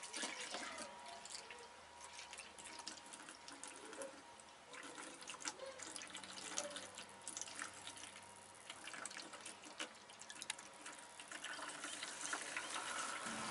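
Antifreeze slowly poured into a Jeep cooling system during a water pump install, a faint, continuous trickle and gurgle of liquid with small drips, alone and quiet.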